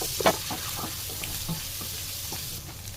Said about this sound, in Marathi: इथे छान आपल्याला असं परतून घ्यायचं आहे जिरं आलू.